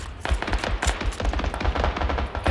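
Rapid gunfire in the video game PUBG Battlegrounds, a dense run of sharp repeated shots and bursts throughout, loud and close with no talk.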